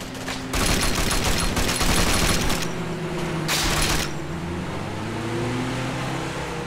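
Gunfire in the ARMA 3 military game, with dense bursts of automatic fire from about half a second to two and a half seconds and another burst near three and a half seconds, over a steady low vehicle-like rumble.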